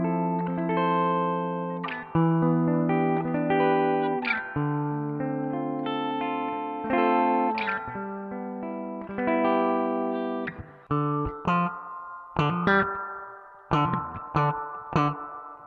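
Sustained chords ring through a BOSS RE-2 Space Echo pedal with its spring-style reverb raised and echo cut, notes swelling and decaying with a lush wash, giving way to sharper plucked hits that trail off into reverberant tails.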